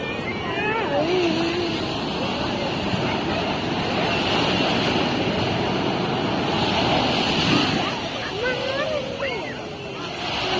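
Sea waves wash continuously onto a beach shore in a steady roaring surf with gusty wind noise, while people chatter faintly in the background.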